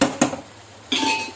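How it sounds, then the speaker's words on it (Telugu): A metal lid is set on a cooking pot with two quick clanks, followed by a brief quiet and then a loud steady hiss of frying from inside the pot. "మూత పెట్టుకుందాం."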